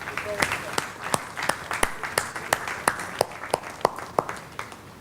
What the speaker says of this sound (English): I would request you to kindly keep applauding.